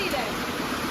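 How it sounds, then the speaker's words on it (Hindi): Rushing floodwater pours into a house during a thunderstorm, a loud, steady wash of churning water with no break. "पूरा घर में पानी घुस गया इधर साइड पे।"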